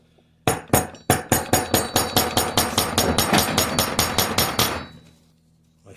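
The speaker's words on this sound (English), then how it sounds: "we'll give that a shot with the hammer here or something." Hammer tapping on an SKS rifle bolt, Russian type, during restoration work: about twenty sharp, ringing metallic strikes in steady quick succession, close and fairly loud, with no talking.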